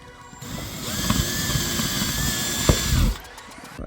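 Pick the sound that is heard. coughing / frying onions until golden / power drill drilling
power drill drilling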